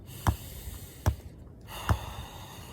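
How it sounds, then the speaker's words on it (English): Breathing during a soccer training drill comes as three sharp, close exhales like snorts, roughly evenly spaced about a second apart over a quiet background. "Breathing."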